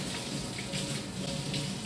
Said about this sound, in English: run them up under the hot water for a little bit, not too long.